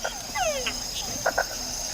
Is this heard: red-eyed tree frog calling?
yes